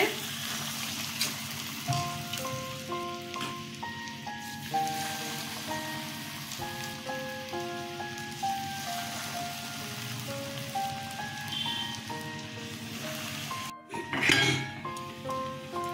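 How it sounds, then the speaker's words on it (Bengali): Pumpkin and duck egg koftas fry in hot oil with a steady crackling sizzle throughout, partly covered by a melodic music track. "তেলটা গরম হয়ে গেছে, কোপ্তাগুলো ছেড়ে দিচ্ছি"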